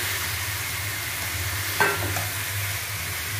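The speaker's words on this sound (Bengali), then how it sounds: "এখন আমি তাতে দিয়ে দেবো হলুদ নুন মাখানো কাঁচা চিকেন।" Raw chicken coated in turmeric and salt drops into a pan of sizzling onion, ginger and garlic paste for chicken do pyaza, giving a steady frying hiss with a brief clatter as it goes in.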